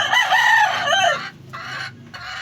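A rooster crows loudly and close by in one long, wavering cock-a-doodle-doo, followed by a few short rustling bursts.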